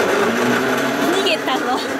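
A kitchen blender runs loud and close with a constant whirring drone, while people talk over it.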